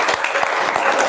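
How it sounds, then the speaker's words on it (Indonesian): Classroom applause from students cheering on the first group before it presents, a steady dense clatter of many hands running the whole short stretch at even loudness. "Kita kasih dulu semangat, tepuk tangan dulu."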